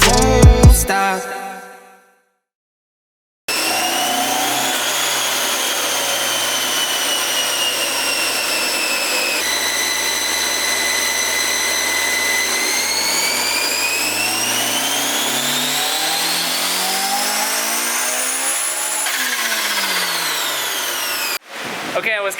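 A boosted Honda S2000 engine on a dyno sweeps up through the revs in one long pull, a loud and rising steady whine with a brief shift partway, and it cuts off abruptly at the end.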